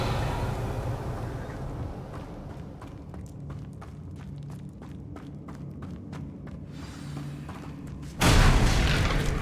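A Bombarda spell explosion in Hogwarts Legacy lands as a sudden loud boom near the end, following a stretch of quieter rhythmic thuds and footsteps.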